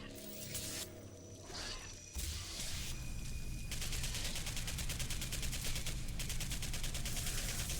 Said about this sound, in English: You can see the bullets coming out of my rifle.